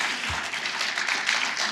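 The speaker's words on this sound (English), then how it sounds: "let's give a round of applause for all of our excellent speakers we've had today" A conference audience at LibertyCon applauds its speakers, with dense, continuous clapping from a crowd that stays even and fairly close throughout.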